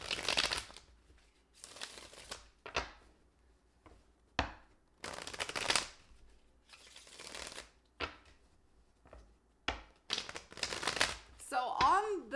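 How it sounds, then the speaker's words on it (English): A deck of tarot cards is shuffled by hand in repeated crisp riffling bursts separated by short pauses, close and clear, with a brief voice at the very end. "So on the shuffles now, I have seen only major arcana."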